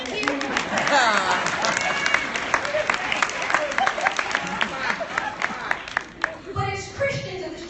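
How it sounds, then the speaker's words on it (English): Audience applause at a National Coalition of 100 Black Women luncheon in Las Vegas, a brisk round of clapping mixed with cheers and crowd voices that tapers off after several seconds. "Y'all know you should clap on that"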